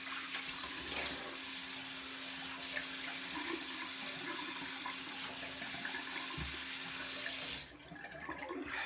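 Steady rush of running water from a tap while rinsing the face after a straight razor shave with a Dovo Prima silver steel blade, continuous and fairly close, cutting off near the end.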